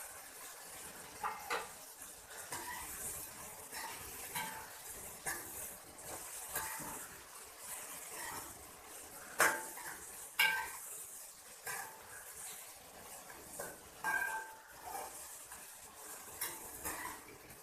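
Chopped green chillies, tomato and fresh coriander stirred together on a plate with a spoon, giving soft, close scraping and clinking scattered across the whole stretch with no talking.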